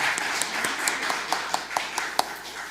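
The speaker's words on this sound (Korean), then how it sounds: "우리 서로 격려 박수 하겠습니다." Church congregation clapping in encouraging applause during a worship service, a fairly even patter of many hands with rhythmic accents, at moderate volume in a roomy space.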